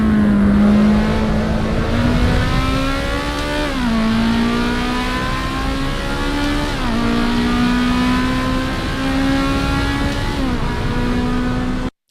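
A racing car in the sim game Assetto Corsa Evo, engine loud and close, revving hard and climbing through gear changes with brief dips between shifts.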